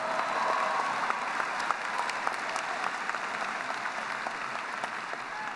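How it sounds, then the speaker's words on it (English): A graduation crowd at a university commencement breaks into applause during a speech, a dense, sustained roar of clapping from many hands that swells at first and then holds steady, with occasional sharper claps poking through. "you can go ahead and applaud that"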